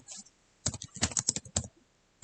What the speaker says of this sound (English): Let me type the code.